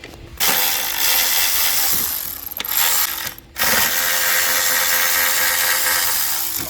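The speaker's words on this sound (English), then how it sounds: "We gotta disconnect it with those 10 mil." Ratchet loosening 10 mm bolts on the evap line of an Infiniti during valve cover gasket work, giving loud continuous clicking runs broken by two brief pauses.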